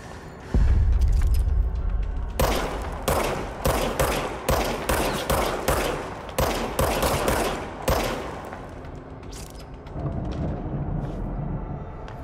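Gunfire in the video game Control, a loud series of sharp shots in quick bursts with brief gaps, fading to a lower rumbling ambience near the end.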